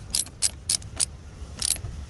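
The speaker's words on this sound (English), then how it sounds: "10mm socket, tighten it up." A ratchet wrench with a 10mm socket tightens the battery terminal on a 2009 Hyundai Elantra, five short crisp clicking bursts at close range, four in quick succession, then a pause before one more, with no talk.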